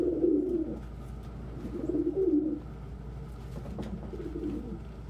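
Pigeons coo in a low, throaty rhythm, three drawn-out bursts of cooing in steady succession, close and moderately loud over a constant low hum with faint chirps above.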